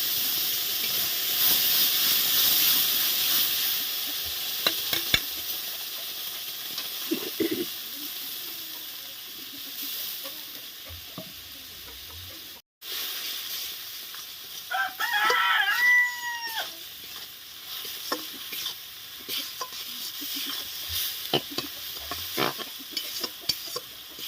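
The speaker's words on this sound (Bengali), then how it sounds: "মা কড়াতে জিরে ফোড়ন দিল দিয়ে যে মশলাটা বেটে নেওয়া হয়েছিল মিক্সিতে সেটা দিয়ে দেওয়া হলো" Ground spice paste sizzles and hisses in hot oil with cumin seeds in a wok, a steady steamy frying hiss with occasional stirring scrapes, while a rooster crows in the background.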